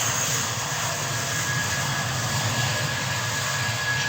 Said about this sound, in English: That's an airplane.